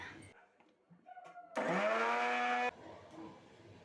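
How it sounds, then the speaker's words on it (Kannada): A mixer grinder grinds ginger, garlic and green chillies into paste in a kitchen, whirring loudly in one burst of about a second before cutting off, with quieter handling noises around it. "ಸೊ ಶುಂಠಿ ಪುಡಿ, ಬೆಳ್ಳುಳ್ಳಿ ಸ್ವಲ್ಪ ಮತ್ತು ಹಸಿಮೆಣಸಿನ್ಕಾಯಿನ ಈಗ ಗ್ರೈಂಡ್ ಮಾಡ್ಕೊಳ್ಳೋಣ"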